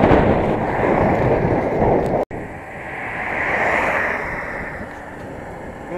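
Strong headwind buffeting a microphone while cycling along a road across open treeless fields, a loud broad roar with a brief cutout and gusting swells.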